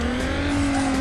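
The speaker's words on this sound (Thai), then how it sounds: "กดเบรกเต็มตัวแล้วนะครับ" Hard braking of a Hyundai Tiburon GT in Need for Speed Underground: a loud, sustained high tire squeal over engine roar, one continuous burst with no voices.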